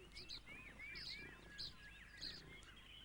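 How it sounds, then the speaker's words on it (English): A vitelline masked weaver calls in a garden, giving faint, repeated chirping phrases in a steady rhythm over a quiet background. "A vitelline masked weaver."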